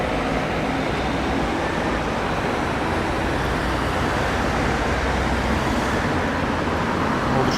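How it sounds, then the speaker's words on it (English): Dense road traffic streams along Park Lane in London, a constant loud roar of passing cars, vans and buses with no gaps, close by and continuous throughout. "All the traffic is going down there."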